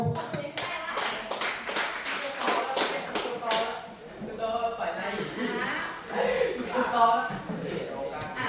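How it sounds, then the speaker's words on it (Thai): Students in a Thai secondary classroom clap for group B during an English vocabulary lesson, a brisk ragged burst of many hands close by that eases and picks up again, with a teacher's voice talking over it. "ปรบมือให้กลุบีหน่อยค่ะ"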